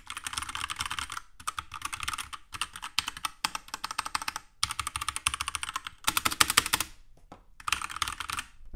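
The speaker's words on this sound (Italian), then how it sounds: "Questa bellissima tastiera meccanica, sentite che rumore che fa." Rapid clacking keystrokes on a mechanical keyboard, close and crisp, in bursts with short pauses between runs of typing, no voices.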